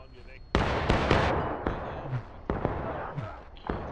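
A Civil War reenactment musket volley rings out as several loud, sharp cracks crowd close together, followed by scattered echoing reports, over continuous outdoor rumble and raised voices.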